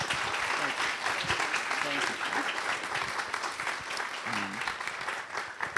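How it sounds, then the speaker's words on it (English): Book-event audience giving a final round of applause for author Adam Higginbotham, dense sustained clapping from a seated crowd with a few voices mixed in. "can we give one more round of applause for Adam Higginbotham?"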